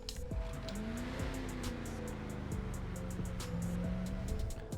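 A steady engine drone with a rising and falling whine holds throughout, a Declasse Walton L35 in GTA Online idling and revving slightly, with faint ticking over it.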